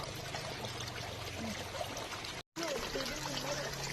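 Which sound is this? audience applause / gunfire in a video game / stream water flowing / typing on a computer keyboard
stream water flowing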